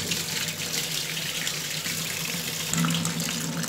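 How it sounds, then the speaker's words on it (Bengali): Cold tap water runs steadily over chhana curds in a strainer, a continuous close splashing flow that holds throughout. "আর ঠান্ডা পানি দিয়ে ধুয়ে নিচ্ছি।"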